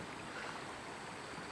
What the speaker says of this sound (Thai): น้ำไหลแรงครับ